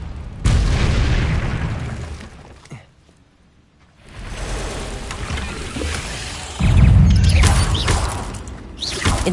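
Incendio fire spell cast in the Hogwarts Legacy video game, loud whooshing fiery blasts that surge, drop to near quiet for about a second, then return with a heavy roaring burst late in the clip.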